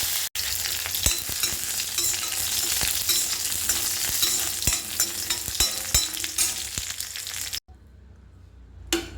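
Raisins and cashews sizzle steadily in a spoonful of hot ghee in a kadai while being stirred now and then. The frying stays close and loud, then drops to near silence for the last second and a half.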